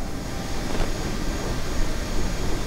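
An Airbus A320 jet rolls along the taxiway toward the gate, its engines giving a steady broadband whine and rush at moderate distance with no talk.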